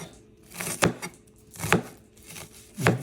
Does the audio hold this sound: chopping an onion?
yes